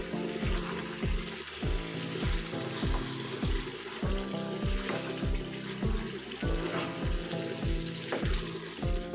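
Marinated chicken for a hariyali curry being stirred in a hot pan, a rhythmic series of regular scraping strokes over a continuous sizzle, close and without talk.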